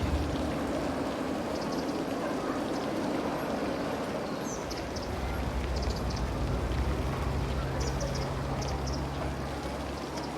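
Steady rain hiss from the Cities: Skylines city-builder game, a continuous broadband wash throughout with low hum beneath and faint bird-like chirps, no speech.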